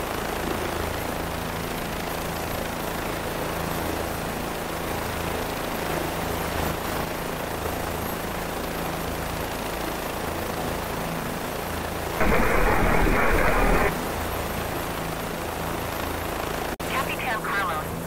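Steady rotor whine and thrumming drone of a Bell 407 police helicopter in Microsoft Flight Simulator continue throughout, with a loud burst of radio-like noise partway and voices talking over it.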